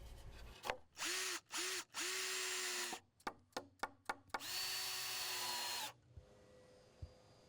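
Cordless power drill driving 3.5-inch deck screws into deck boards, toe-nailed at an angle. Several loud whirring bursts, a rapid run of short pulses, then one long sustained drive that winds down, all close by.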